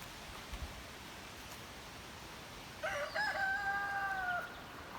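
A rooster crows once, clear and somewhat distant, over a steady background hiss after a few quiet seconds, in a mountain village beside a river.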